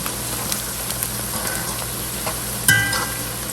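Chopped onions sizzle and crackle steadily in a hot pan while being stirred, with a sharper clink of a utensil against the pan near the end; no voice is heard.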